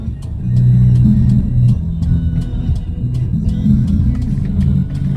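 A car's engine rumbles steadily at low pitch, close and fairly loud, as it is pulled over and parked at night during a beginner driving lesson.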